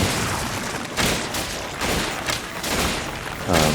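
Gunfire in Resident Evil 5 as shots are aimed at a boss's arms: loud, rapid repeated bursts with booming impacts over a dense game soundscape.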